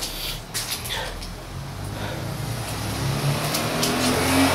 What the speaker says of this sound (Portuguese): uma coisa que eu não tô acostumado a filmar, gente, é com esse monte de carro passando aí